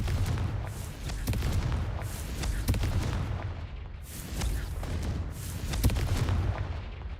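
Confringo explosive spell from Hogwarts Legacy going off in a series of booming, crackling blasts that recur every second or so, moderately quiet over a rumbling low background.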